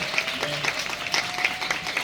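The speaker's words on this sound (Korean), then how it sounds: "박수 부탁드립니다" An audience claps for a musical's cast at a stage greeting, a dense patter of many hands filling the room at moderate loudness, continuous throughout.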